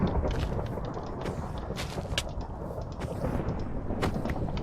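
Thunder during a Minecraft thunderstorm, a loud continuous rumbling roll with rain-like hiss and scattered sharp crackles throughout, no talking over it.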